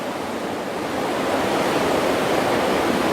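Ocean surf washes onto a beach in a broad, continuous roar that swells slightly louder partway through, with no voices.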